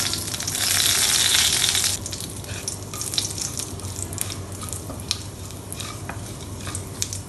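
Five-spice and dried red chillies hit hot mustard oil in a pan, a loud burst of sizzling at first that settles into steady crackling and popping with scattered sharp spatters.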